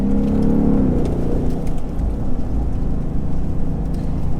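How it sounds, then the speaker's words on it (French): A Ford Mustang V8 convertible, top down in snow, rumbles with a deep, steady engine drone, loud and close with no talk. "qui permettent de profiter du son du V8"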